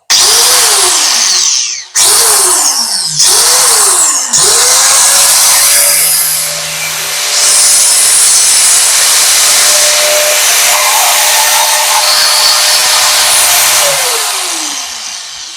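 Caterpillar DX3092 angle grinder running with no load, revved in three short bursts that spin up and wind down, then held at a steady loud high-pitched whine before winding down at the end.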